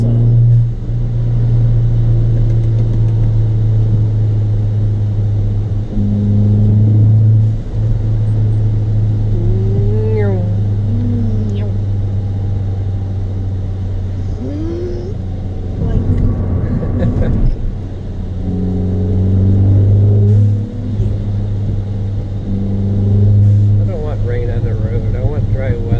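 A Ford Fiesta ST running an E30 ethanol blend drones steadily while driving, with a low, continuous exhaust rumble. People talk over it throughout.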